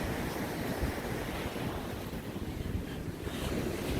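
Ocean surf washes steadily onto a beach at Las Canas, Samana, Dominican Republic, a broad continuous roar of waves mixed with gusty wind buffeting the microphone, and no one speaking.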